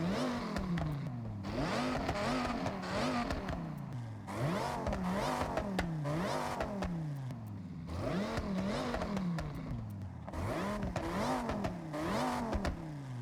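Dodge Ram SRT10 pickup truck engine in the Forza Horizon racing game, revving repeatedly in rising and falling sweeps, each surge climbing then dropping back, loud and continuous with no talk.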